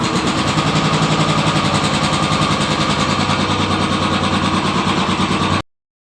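A motorcycle engine, a 2020 bike, runs at a steady close idle with an even, rapid putter and no talk, before the sound stops sharply.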